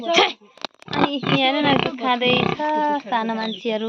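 Pigs grunt and squeal loudly and continuously at a farm where piglets are being sold, heard close up beneath someone speaking throughout.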